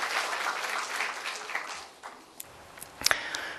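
At a 2013 Korean conference on job creation and regional economic revitalization, the seated audience gives a warm round of applause that thins out and fades midway, leaving a few scattered late claps.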